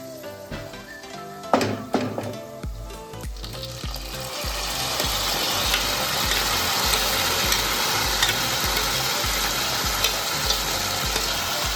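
Raisins and sweet khichdo roast in a pan over a low flame for Makar Sankranti, sending up a loud, continuous frying hiss and sizzle after a few early stirring clinks.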